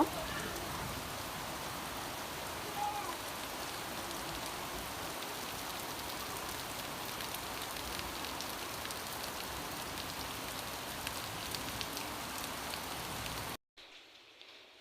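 Heavy rain pours steadily in a dense, even hiss, continuing without pause until it cuts off near the end.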